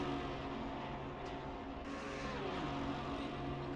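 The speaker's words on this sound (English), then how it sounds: "Porsche getting right in the slipstream of that Aston Martin, the lower downforce allowing it past with ease" Race cars, a Porsche slipstreaming and overtaking an Aston Martin in Assetto Corsa Competizione at Circuit Paul Ricard, give a steady, loud engine drone with layered tones that shift as one car draws past, with no voices.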